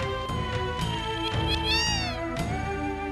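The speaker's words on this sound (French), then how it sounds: "Les chats." Cats meowing in Final Fantasy 7, several rising and falling meows one after another over a steady game music backdrop, with no talking.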